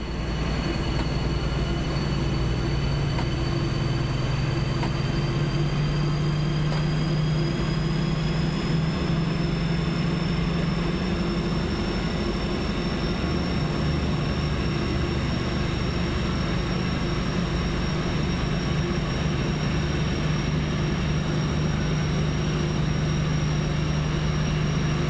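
A DB BR 218 diesel locomotive idles and runs in the Train Sim World game, a steady low engine drone with a faint high whine, constant and close throughout with no talking.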